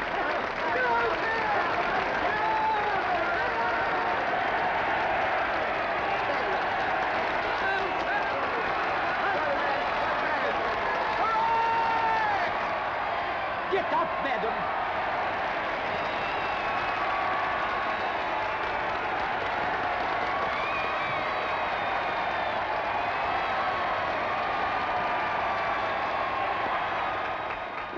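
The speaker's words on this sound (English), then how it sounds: "the applause is still going on as fiercely as ever" A large cricket crowd applauds and cheers continuously as a batsman returns to the pavilion, a dense, sustained roar of clapping and shouting heard from within the stands, with a voice calling out over it.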